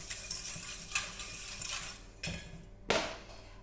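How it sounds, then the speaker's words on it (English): A homemade hair oil mixture being stirred in a container, soft swishing with several sharp clinks of a utensil against the sides. "Then I just stir,"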